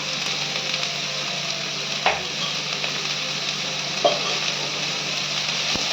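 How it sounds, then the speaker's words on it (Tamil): Onions sautéing in a pan with dried chillies for spicy ragi puttu, a continuous close sizzle with a couple of sharp stirring knocks and a steady underlying hum. "இப்போ வதக்கலாம் நம்ம கொஞ்சம் நல்லா வதங்கட்டும்"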